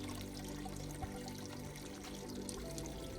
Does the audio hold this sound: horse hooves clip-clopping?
no